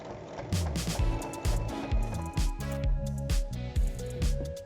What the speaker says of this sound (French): Et on fait une piqûre au milieu pour séparer les poches en deux.